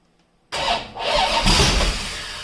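After a brief silence, a hot rod engine started for the first time cranks and catches, roaring up loudly and then running roughly at a steady rumble, timing set too far.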